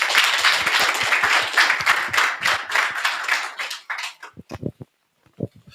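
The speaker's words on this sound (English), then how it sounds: "Another round of applause." An audience gives a round of applause after a panel discussion on digital innovation: dense, close clapping at first, then thinning to a few scattered claps before fading out.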